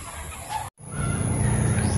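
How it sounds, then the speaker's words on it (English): Mother hen clucking beside her chicks outdoors at a bahay kubo in Baybay City, Leyte: soft low clucks, briefly cut off, then a denser burst of clucking against steady background noise. "Mama protecting the little chickies."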